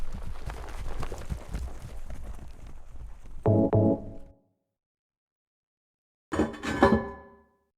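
In the video game Silent Hill 2, horse hooves clip-clop in quick, fairly loud clatters, then two ringing metallic bursts follow, separated by a stretch of silence.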